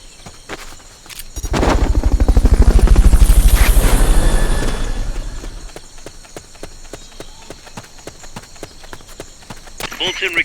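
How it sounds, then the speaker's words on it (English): In Metal Gear Solid Peace Walker, a helicopter's rotor chops in fast, heavy pulses that swell in, hold loud, then fade out, followed by sharp scattered clicks and pops from the game. "Fulton recovery subject confirmed onboard helicopter."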